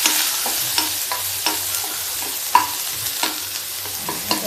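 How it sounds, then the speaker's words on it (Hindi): Onions frying in a pan for a tuvar dal and bharta dish, with a steady close sizzle and repeated scraping stirs of a spoon against the pan, no voices. "अब हम प्याज भूनते हैं।"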